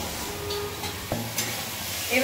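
Egg bhurji frying and being stirred in a pan, a steady soft sizzle with a few sharp scrapes and clinks of the spatula against the pan.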